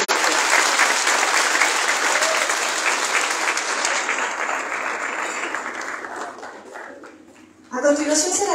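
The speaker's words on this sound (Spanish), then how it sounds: "Les damos un fuerte aplauso al presidente municipal constitucional y a su familia." A crowd at a town council swearing-in ceremony gives loud, dense applause for the constitutional municipal president and his family. The clapping fades gradually, then a voice begins speaking over a public address system.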